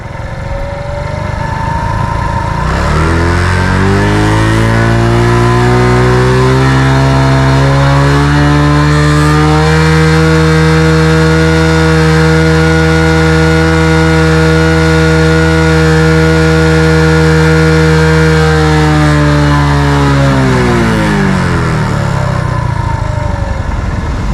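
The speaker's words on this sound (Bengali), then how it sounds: "বাইকের সাউন্ডটি কতটা স্মুথ সেটি আরেকবার দেখাচ্ছি আপনাদেরকে" A motorcycle engine, run on a single engine oil for more than three thousand kilometres, idles steadily and loudly with an even hum. It starts up early in the clip and winds down near the end, with no talk over it.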